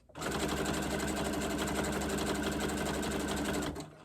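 A sewing machine stitches pieces of scrap batting together, running in one steady, fast, close-up mechanical whir for about three and a half seconds before stopping.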